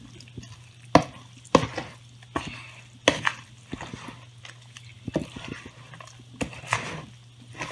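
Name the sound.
mixing sweet potato oat bar batter in a bowl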